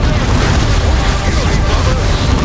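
A grenade blast in Warhammer 40,000: Dawn of War 2 Chaos Rising, a loud, dense rumbling boom that fills the whole stretch with heavy low-end energy and battle noise, with some game voice mixed in.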